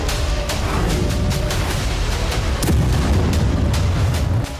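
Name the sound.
Russian artillery and kamikaze drone strikes on military vehicles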